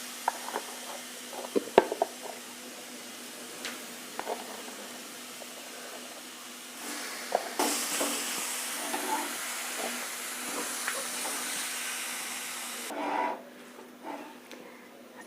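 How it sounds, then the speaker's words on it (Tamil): Chicken and masala sauté in oil in an iron kadai for a Theni-style chicken gravy without coconut, a moderate close sizzle with clicks and scrapes of stirring that swells to a louder hiss before dropping away. "இப்போ நம்ம போட்ட சிக்கனும் மசாலாவும் நல்லா எண்ணெய் பிரிகிற அளவுக்கு இதே போல் வதக்கணும்"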